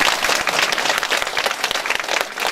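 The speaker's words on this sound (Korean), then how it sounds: "모두를 위해서 박수 한번 주시죠" Applause from local residents at a lawmaker's neighborhood report meeting in Geumam 2-dong, Jeonju, dense continuous clapping from a crowd, loud and steady throughout.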